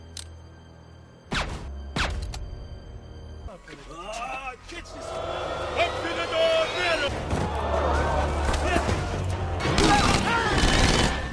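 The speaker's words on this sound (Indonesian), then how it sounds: "Moreo muncul sambil menembaki para tamu." Gunfire in a film scene where guests are being shot, with sharp loud bursts early on and then dense chaotic shooting, crashes and commotion building toward the end, and voices mixed in.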